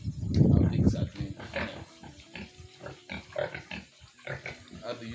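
Pigs grunting in a farm pen with wood shavings bedding, a loud close burst of grunts followed by a run of shorter snorts and grunts, with people talking quietly at times.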